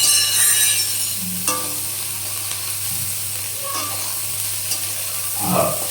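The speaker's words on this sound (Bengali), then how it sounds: "এই সয়াবিনগুলো একটু হালকা করে ভেজে নেব।" Soybean chunks frying lightly in a pan give off a bright, continuous sizzling hiss, broken by a few soft scrapes and knocks as they are stirred now and then.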